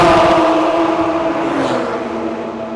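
Porsche GT4 RS engine revving and driving, a loud sustained mechanical tone with strong harmonics that holds steady and eases slightly in the second half, heard alone without talk.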